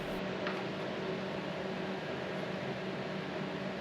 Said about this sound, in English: Apologies for the background noise, I forgot to turn off the extractor fan.